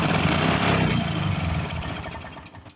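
A 1986 Toro lawn mower with a rare two-stroke Suzuki engine runs close by, a loud buzzy burble that gradually fades and sputters down toward the end.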